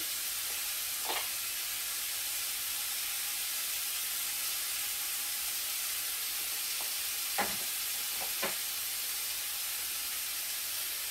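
Zucchini, carrots, tomato pulp and garlic cook in a pan with a constant soft sizzle and hiss, broken by a few brief clinks of stirring utensils.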